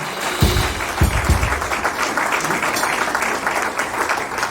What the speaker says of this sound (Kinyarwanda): Yikomera amashyi mu izina rya Yesu